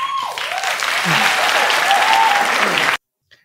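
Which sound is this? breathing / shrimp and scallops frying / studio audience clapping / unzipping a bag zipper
studio audience clapping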